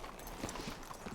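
A horse's hooves clip-clop softly in a Western game from the Red Dead series, a few uneven, muffled hoof falls over about a second, faint and distant.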